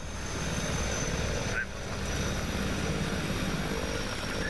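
Simulated AW139 helicopter engines winding down to idle in X-Plane 11 over a London air ambulance scene, a steady, moderately loud whine and rotor drone with a brief dip partway through.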